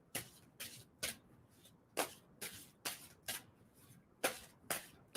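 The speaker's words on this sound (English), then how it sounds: "tell him when to stop shuffling" Tarot cards shuffled by hand in a steady rhythm of about a dozen soft, crisp riffles, close and quiet with no talking.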